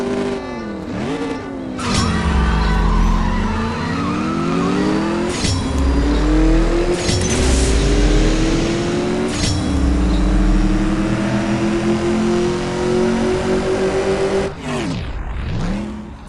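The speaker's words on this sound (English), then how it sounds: "Engines yet again synchronizing." Car engines in the CSR Racing 2 video game rev loudly again and again, each surge climbing in pitch and then falling back, with no voices over them.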